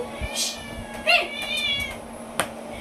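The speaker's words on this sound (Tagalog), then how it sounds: "Nag-aaway-aaway pati pusa." Cats yowl and screech in a tense fighting caterwaul, several drawn-out cries rising and falling over a few seconds, fairly close, with no talking, in Roblox.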